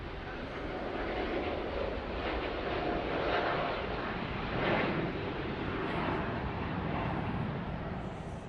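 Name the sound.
aircraft taking off from runway 34 right, Sydney Airport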